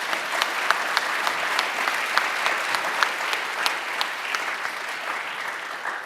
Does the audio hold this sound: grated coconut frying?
no